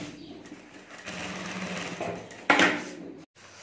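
Sewing machine stitching the top seam of a handmade potli bag, a steady mid-speed whir running for about three seconds with a louder burst near the end, then stopping abruptly.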